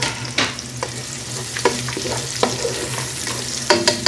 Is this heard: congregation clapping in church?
no